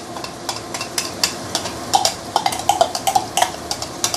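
Blended spice paste sautéing in oil at medium to medium-high heat for assam pedas snapper, an even sizzle under quick rhythmic scraping and clinking of a utensil against the pan, close and fairly loud, no voices.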